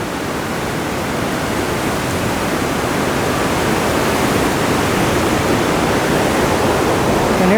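The Whirlpool Rapids in the Niagara gorge roar as a loud, unbroken rush of whitewater, a broad steady noise that swells slightly over the seconds, with no voices.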